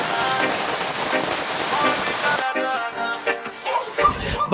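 Rain falling, a dense steady hiss of drops that thins out midway into scattered patter and a few irregular knocks, fairly close and with no talking.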